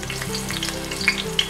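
Green chilies and a pandan leaf fry in hot oil, a brief close crackling sizzle with a few sharper pops near the end and no talking.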